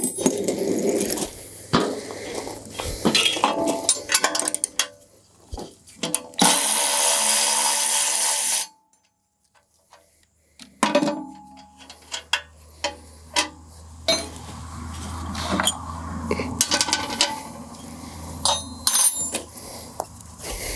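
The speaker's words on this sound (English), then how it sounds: "I got to take this bolt out in order to put the mast on" Hand tools work a bolt loose on a Woods RT72 tiller, giving scattered clanks, taps and rattles, a brief loud whirring burst, and a pause of near silence.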